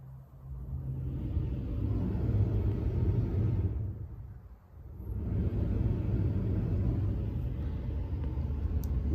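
An OEM blower runs with a steady, low rumbling whoosh, dipping briefly midway before resuming its even drone, close and continuous with no voices.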